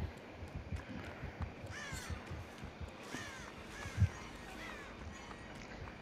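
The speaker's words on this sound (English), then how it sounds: "I'm gonna run around and disturb crows." Crows caw in a video game, a few hoarse calls scattered over steady background ambience, with soft footstep-like thumps and one louder knock.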